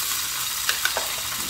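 Beaten egg mixture sizzles as it hits a greased pan over low heat, giving a steady, fairly loud frying hiss with a few soft splatter pops and no talking.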